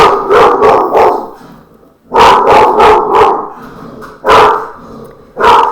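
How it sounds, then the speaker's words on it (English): A dog barks loudly and close at someone at the front door, bursts of rapid repeated barks with short yips separated by brief pauses, no talk over it. "someone at my front door, and my dog is going nuts."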